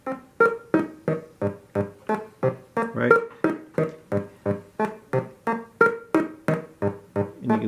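A steady looping sequence of short modular synthesizer notes, about two per second, each with a sharp attack and quick decay, repeating a simple pattern; a brief word is spoken once.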